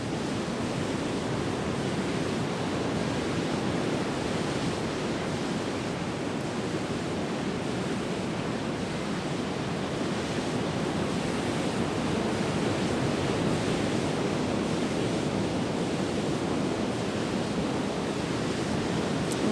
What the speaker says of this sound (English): Enjoy the sounds of the waves,